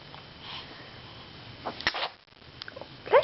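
A single sharp sneeze close by, a short burst after a quiet stretch, with soft background noise and faint clicks around it, at home beside a baby looking at a toy snail.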